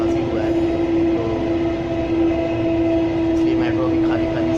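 A Delhi metro train running, with a steady loud rumble and a sustained electric hum filling the whole stretch, and faint voices in the background.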